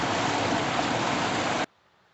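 The River Anton, a chalk stream near Fullerton Mill, flows in a steady, full rushing wash that holds evenly for about a second and a half before cutting off abruptly into near silence.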